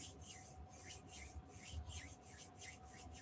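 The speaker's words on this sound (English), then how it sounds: "rubbing them together" Palms rubbing together in quick, even back-and-forth strokes, close and soft with a papery swish repeating about twice a second over a faint steady hum.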